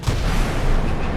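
A missile launch in a naval warfare game: a sustained low, rumbling roar with dense mid-range hiss, steady and loud throughout, no voices.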